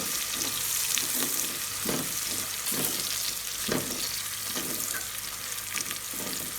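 Chopped ginger fries in oil in a karahi over low flame, a steady close sizzle with stirring scrapes at intervals and no talk.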